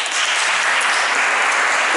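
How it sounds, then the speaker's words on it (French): Continuous audience applause at a French community presentation awarding prizes for a participatory project on the Petite Ceinture in Paris, dense and steady throughout. "Enfin, applaudissements évidemment pour cette famille."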